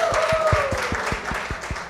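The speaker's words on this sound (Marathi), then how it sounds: "त्यासाठी एकदा जोरदार टाळ्या." An audience applauds at a music launch event for a 2016 Marathi film. Steady, rhythmic hand claps ring out at a moderate distance, with a faint tone lingering underneath and no speech over them.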